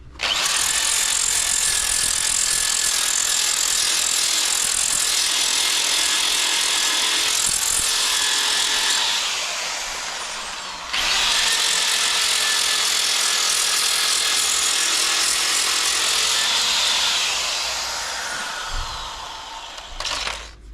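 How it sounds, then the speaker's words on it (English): A drill fitted with a coarse sanding disc whines loudly against cupboard wood, a continuous high-pitched grinding that briefly stops midway, then resumes and tapers off. "with the handy dandy sanding disc on my drill, I'm going to give them all a quick sand"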